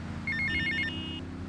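Payphone ringing in the game GTA Vice City: a short burst of electronic trilling rings, bright and clear over a low game backdrop, fading out within about a second.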